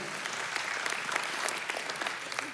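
A church audience claps steadily for a pastor's twentieth wedding anniversary, the applause fairly quiet and sustained without a break.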